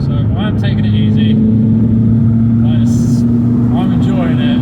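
A cammed Renault Clio 182 Trophy driving along a leafy, muddy road, its steady engine drone loud and constant throughout, with a voice talking over it in places.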